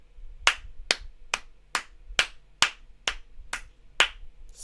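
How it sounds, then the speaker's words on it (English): One person clapping their own hands, about ten sharp distinct claps in a slow, even rhythm, close and alone in a quiet room. "Self-applause."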